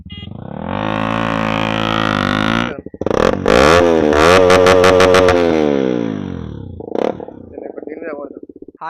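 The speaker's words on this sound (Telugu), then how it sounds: "KTM RC 200 versus Duke 390 track race అయితే పెడుతున్నాం." KTM RC 200 and Duke 390 motorcycles race on a track, their engines revving loudly and rising in pitch through gear changes, with a brief drop and then renewed acceleration, close and without talk.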